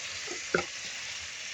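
Chicken pieces pan-frying for majbus, a steady close sizzle with a brief sharper crackle and stir partway through, no talking.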